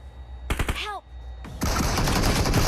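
Video-game gunfire crackles as a few sharp shots, then a sustained rapid burst that fills the end, loud and close, with a brief voice between.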